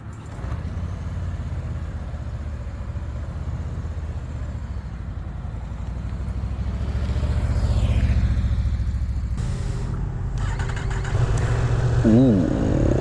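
A Yamaha MT-10 SP motorcycle engine revs in loud, rising and falling bursts, close and rough, with a shift in tone partway through and a sharper rev near the end.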